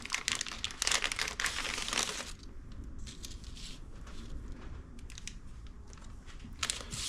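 Packing paper from a Mitutoyo digital calipers box is crumpled and handled up close in a workshop, giving loud continuous crinkling that eases into softer rustles and crackles.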